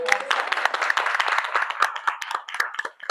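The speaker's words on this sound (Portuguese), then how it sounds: "Uma salva de palmas" An audience gives a short burst of lively clapping at an Outubro Rosa health talk, many hands applauding together at close range for a few seconds.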